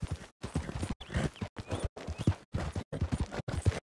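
Rapid rhythmic hoofbeats of a horse in Red Dead Redemption 2 pounding along in bursts, with short gaps between runs, loud and close, no talking over them.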